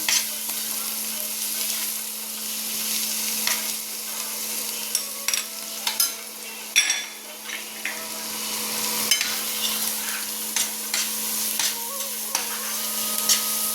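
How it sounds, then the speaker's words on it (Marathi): Onion roasting in a pan together with a ground paste for bharangi bhaji, a continuous sizzle with frequent stirring scrapes and spoon taps against the pan, a steady low hum underneath, no speech. "लगेचच कांदा घालू. सर्व एकत्रच भाजून घेऊ."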